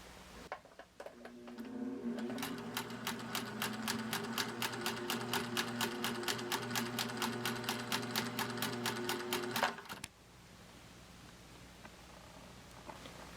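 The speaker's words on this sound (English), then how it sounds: "the basic straight stitch for the old Singer machine works well for me" An old Singer sewing machine runs a straight stitch through knitted fabric, giving a fast, even, close mechanical chatter for about eight seconds before it stops abruptly, leaving quiet room noise.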